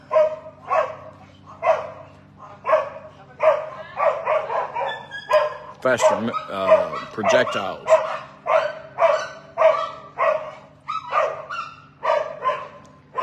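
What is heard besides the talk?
dogs barking in the neighborhood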